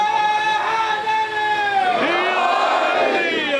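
A crowd at a religious majlis chants slogans together, a loud massed call of many voices rising and falling in long sustained tones.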